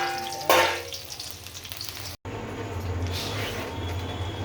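Chopped onions frying in hot oil in a home kitchen, a steady close sizzle that flares loudly as they hit the pan, then continues after a brief cut with a low rumbling crackle.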